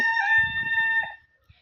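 A roughly 20-week-old rooster at a home poultry yard crows once, close and loud, with a strong harmonic call lasting about a second before trailing off into quiet, with a faint scuff afterward.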